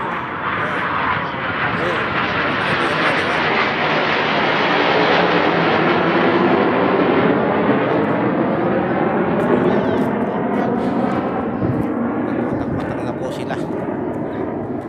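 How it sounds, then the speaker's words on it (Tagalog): Airplane flying at an airshow in Kuwait: a loud, sustained jet roar swells and shifts in pitch as it passes overhead, while a person talks over it. "Ayan, yung aeroplano."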